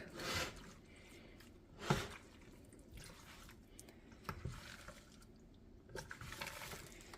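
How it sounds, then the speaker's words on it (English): Thick oven stew being stirred in a casserole dish, with wet squelching and scraping strokes arriving in several bursts, close and moderately loud. "let's see if we can stir this mofo"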